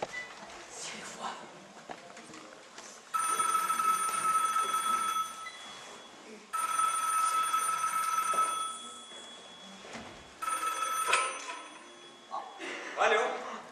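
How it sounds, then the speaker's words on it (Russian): A telephone bell rings in three long loud bursts with short pauses between, from a children's fairy-tale play about a cat's birthday, with voices speaking softly before and after. "Телефон."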